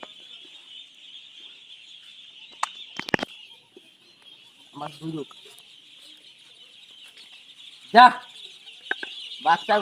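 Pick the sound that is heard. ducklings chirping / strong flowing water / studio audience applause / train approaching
ducklings chirping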